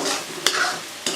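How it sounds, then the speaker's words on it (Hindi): Red chillies and onions are stir-fried in a pan, a brief close sizzle broken by two sharp scrapes of a spoon against the pan. "मिर्च प्याज में डाली हमने और इसी तरह भूनते जाएंगे।"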